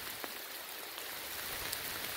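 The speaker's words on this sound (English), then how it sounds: "It's just a bit of rain." Light rain falling in Delamere Forest, a faint, even hiss of drops pattering on leaves and fabric, soft and steady for a couple of seconds with no voices.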